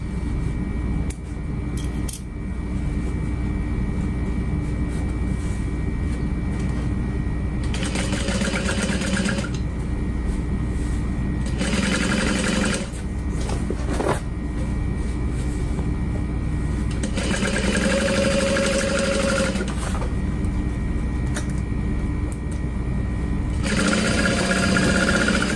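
Sewing machine basting the lining of a duffel bag, running in several bursts of a few seconds each with pauses between, steady and close over a constant background hum.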